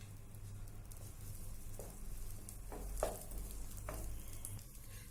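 Butter melting in a hot pan gives a soft, low sizzle with a few faint stirring taps, quiet and close, no speech.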